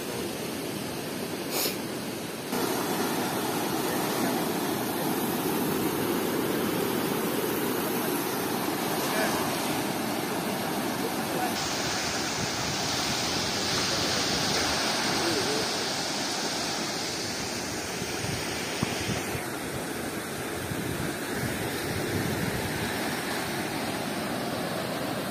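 Large river water rushing loudly and steadily on a jungle trek to Masanga Point in Nakar, a broad continuous roar that runs the whole time with faint voices underneath.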